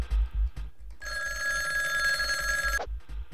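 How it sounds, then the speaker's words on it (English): An old-style telephone bell rings in a single sustained burst of just under two seconds in the video game Jazzpunk, over a steady rhythmic thumping background loop. "I got a telephone call."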